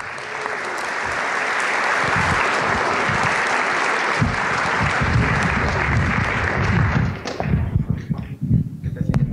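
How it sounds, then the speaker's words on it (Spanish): Sustained applause from a conference audience after a talk on Swift app development, a dense wash of clapping lasting several seconds before tapering off into scattered thumps and a few voices. "Primero un aplauso, por favor."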